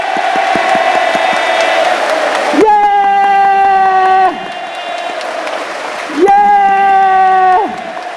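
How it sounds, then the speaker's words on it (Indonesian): Attendees at a sales seminar clap rapidly and playfully, like children, with two loud, sustained bursts of cheering that rise over the clapping, all close and energetic. "mari kita tepuk tangan seperti anak-anak"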